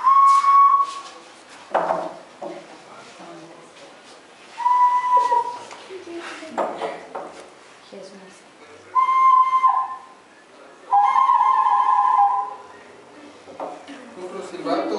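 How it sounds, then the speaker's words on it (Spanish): Clay whistles blown in short, shrill bursts, four or five separate toots with pauses between, some breathy and wavering, heard close. "Esos que están aquí son puros silbatos"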